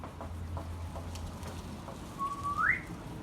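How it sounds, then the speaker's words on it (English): A single short whistled note slides upward in pitch, fairly faint over a low background hum. "I'm still whistling as I draw"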